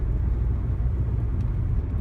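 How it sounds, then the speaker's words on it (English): Road traffic rumbles steadily on a busy road, a continuous low wash of passing cars and engine noise with no clear individual vehicle, heard alone at moderate level throughout. "This traffic is not good."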